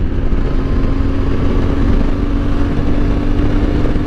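A CFMOTO 450MT motorcycle engine running while riding, held near 6,000 rpm in sixth gear: a loud, steady, continuous drone with rumbling wind noise and no talk.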